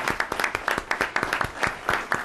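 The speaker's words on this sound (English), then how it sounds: "so we can give a round of applause to Michael Barone" A conference audience at a panel event on U.S. elections and U.S.-Mexico relations applauds a journalist, a moderate, close round of clapping with distinct individual claps rising and falling through the room.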